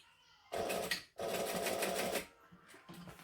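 A sewing machine stitches through vinyl in two loud bursts of rapid, steady needle hammering, then pauses for a short back stitch that ends in a softer final run.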